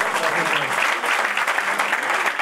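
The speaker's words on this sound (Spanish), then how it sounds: "Es el aplauso." Steady applause from a crowd at a boxing weigh-in and presentation, dense clapping that holds at an even level throughout without a break.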